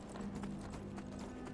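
Horse hooves clip-clopping in the Skyrim video game, a steady, quiet rhythm of hoofbeats continuing without a break.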